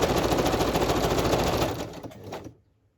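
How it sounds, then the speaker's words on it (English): Sewing machine stitching a boho journal cover, running steadily and loud up close, then slowing and stopping near the end. "Some of it will be stitched over twice."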